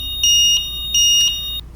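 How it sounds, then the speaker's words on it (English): A UniChock loading dock audible alarm sounds as a loud, piercing electronic tone in two long pulses with a short gap between, fairly close, cutting off near the end. "an audible alarm will start alerting them that they need to return it to the storage bracket"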